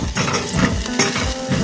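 Red chilies frying with ginger paste in a pan while a hot sauce is being made, with steady close sizzling mixed with scraping and stirring against the pan and no voices.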